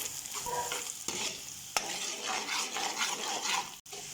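Onions frying in a pan for karhi pakora as whole spices go in: a steady close sizzle with stirring scrapes and a few sharp utensil clicks, no voices.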